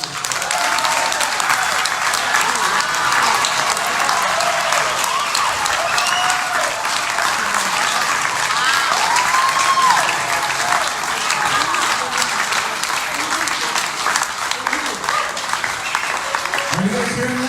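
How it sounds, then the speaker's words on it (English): At a New York coin event, an audience keeps up long, loud, steady applause with dense overlapping claps throughout, and faint voices mixed in. "Please give him a hand of applause."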